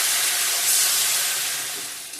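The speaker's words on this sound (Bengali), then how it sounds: "জল দিয়ে দিয়ে দিলাম" Water poured into a hot pan of potato, soya chunk and pumpkin curry, giving a loud, steady broadband steam hiss that fades slightly over two seconds, with no talking.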